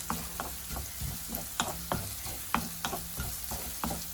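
Finely chopped garlic and a small piece of ginger frying in a pan, a steady sizzle with a spatula tapping and scraping at irregular intervals, close and moderately quiet.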